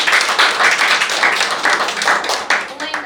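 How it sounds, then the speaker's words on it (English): Audience applause at a Ghanaian disability-policy event honoring the National Council for Persons with Disability, dense steady clapping from many hands lasting throughout, fairly loud and close. "Let's clap for it."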